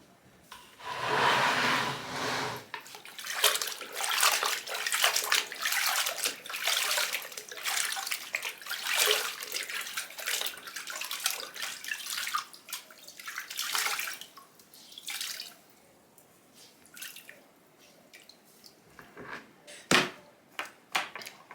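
Tap water runs steadily while a mop pad is rinsed and wet by hand, a continuous splashing wash with brief breaks and a few clunks near the end, close and fairly loud with no talk.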